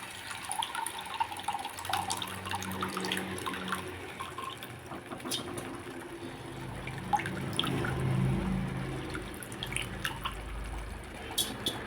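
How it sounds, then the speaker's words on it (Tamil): Tamarind water splashes and drips into a simmering Jilebi fish curry, giving a soft, steady trickle of liquid that stays fairly quiet and runs for several seconds with no talking. "இது கூட கரைச்சி வச்சுக்கிற புளி தண்ணி சேர்த்துக்கலாம்."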